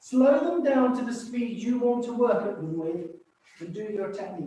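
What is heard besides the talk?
No distinct noise like a dog, phone or traffic.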